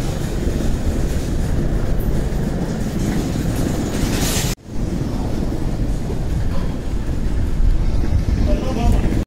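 A train rolls through a railway station with a loud, continuous rumble and rattle, broken by one sharp dip partway through before the heavy roar resumes.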